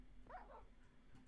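A dog whimpering in distress in Minecraft, a single short, faint whine with a quick rising-and-falling cry against a quiet low hum.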